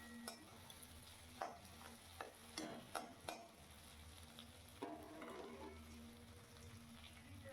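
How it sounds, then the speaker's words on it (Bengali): Egg being stirred and fried in a pan for an eggplant bhorta, a soft sizzle under repeated scraping and tapping of a spatula against the pan, fairly quiet and close. "নাড়াচাড়া করে সুন্দর করে আমি ডিমটাকে দেখো ভেজে নিচ্ছি।"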